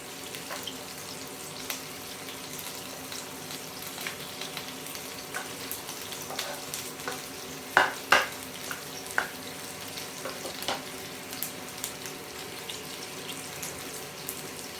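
Chicken browned on all sides fries with added garlic in a pan for dry adobo, a steady faint sizzle with a few soft clicks and stirring taps, no talking.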